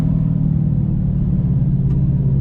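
Dodge Charger Hellcat engine rumbling close by, a loud, steady low growl sustained throughout as the car drives past, no voices.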